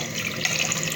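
Water poured into a pan with sugar for tamarind sauce, a brief, steady splashing gush of liquid heard up close with no talk.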